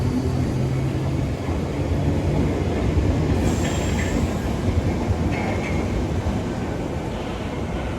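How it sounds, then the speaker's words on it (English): A London Underground Bakerloo line train pulls away from the platform toward Elephant and Castle, a loud, continuous rumble of wheels and motors with brief high squeals from the rails. "departing now is a London Underground Bakerloo line service to Elephant and Castle"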